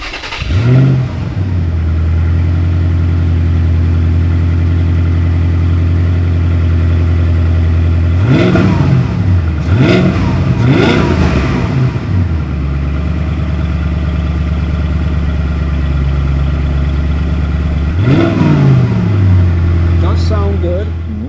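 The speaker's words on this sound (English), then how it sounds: "well, it's Saleen exhaust. It's a little bit louder. It does have a rumble to it." A 2007 Saleen BOSS 302 Mustang with Saleen exhaust idles with a steady low rumble, then revs sharply three times, the bursts rising and falling close by, with people talking over the engine.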